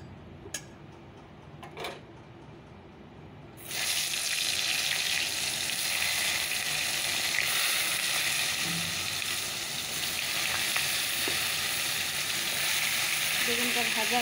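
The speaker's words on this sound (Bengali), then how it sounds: "এখন চলো বেগুন ভাজাটা আগে করে নেই, তারপর চিকেনটাকে বসিয়ে দিই।" Brinjal slices hit hot oil in a wok with a sudden loud sizzle after a few quiet clicks, then fry in a steady, close crackling hiss that carries on to the end.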